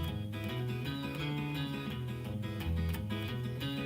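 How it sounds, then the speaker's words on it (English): Funky blues played in seventh chords, a steady full-band groove with rhythmic chord stabs over a bass line, continuous and fairly loud, no talking. "but basically in 7th chords it sounds like this"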